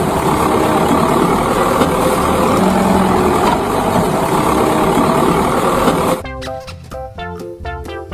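A toy jeep's engine noise plays as a steady, fairly loud rumbling drone for about six seconds, then cuts off abruptly and gives way to a short tune.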